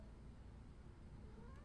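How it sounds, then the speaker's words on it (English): A cat meows faintly in the background behind a person, a brief drawn-out call sitting low under a steady room hum. "that is a cat behind me"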